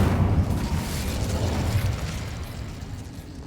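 An Incendio fire spell in Hogwarts Legacy erupts as a short, loud whooshing burst of flame that crackles and fades over a few seconds.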